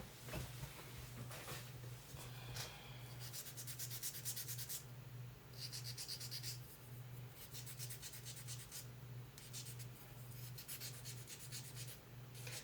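Steady back-and-forth rasping of sandpaper on a small wooden piece for a farmhouse Christmas bench insert, in bursts with short pauses, close up over a low constant hum.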